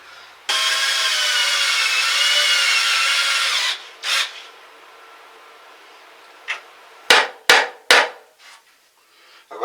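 A power drill whines steadily for a few seconds. After a pause, three sharp hammer blows follow in quick succession as nails go into wooden shelf boards in an off-grid underground root cellar, with a few softer knocks around them.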